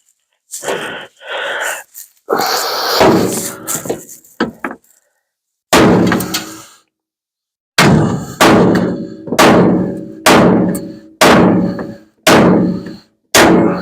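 Heavy blows from a big hammer on metal ring out one after another at a steady pace, loud and close, after some earlier rustling and knocking, while fitting a Ford F1 radiator support cab mount.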